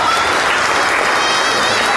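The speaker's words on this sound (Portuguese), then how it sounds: "Aplauda o Senhor bem forte." Loud, dense applause from a church congregation after a prayer, a continuous roar of many hands clapping close up with some crowd noise mixed in.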